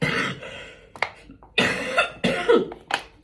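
A series of sharp, harsh coughs, about six bursts spaced irregularly, close and fairly loud with short pauses between them.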